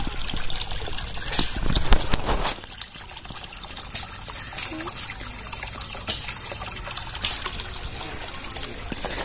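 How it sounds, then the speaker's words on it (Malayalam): Water from a bucket filter with gravel pours steadily and forcefully into an alligator-gar aquaponics pond, aerating it, a continuous close splashing gush with louder bursts in the first seconds and someone talking over it. "അപ്പൊ എയറേഷൻ ചെയ്യുന്നതിന് തുല്യമാണ് ഇങ്ങനെ വെള്ളം വരുന്നത്."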